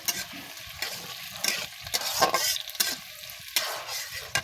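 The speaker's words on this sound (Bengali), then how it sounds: "পেঁয়াজ আর একটু তেল দিয়ে লাল লাল করে" Onions fry in oil for a duck curry while a spoon scrapes and stirs them in repeated strokes, each pass bringing a close burst of sizzling over a softer continuous hiss.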